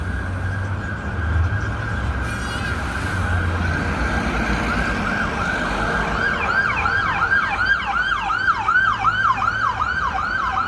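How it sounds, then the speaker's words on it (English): Street traffic rumbles on Lexington Avenue in New York City as an emergency siren starts up, then wails in a rapid, repeating up-and-down pattern, growing louder over the second half. "It's officially a New York City street because you hear the sirens."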